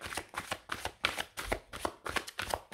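Oracle cards are shuffled by hand in a quick, steady rhythm of crisp riffling bursts, close and fairly soft, with no talking.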